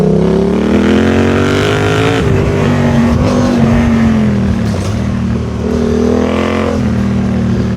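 A dirt bike, a cheap Chinese motocross bike with a Kyoto front tyre, rides along a maintained trail in Spain, its engine revving loudly and continuously up and down close to the rider.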